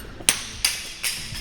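A C8 Corvette Z06 front lift assembly, used as a slide hammer, knocks out three sharp metallic impacts spaced about a third of a second apart, close and clear with no talking.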